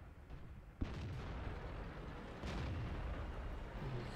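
Tank cannon shot in World of Tanks, firing a Leopard PTA: a sharp low boom at about 0.8 s and a second blast near 2.5 s, both over a steady rumbling engine and battle background.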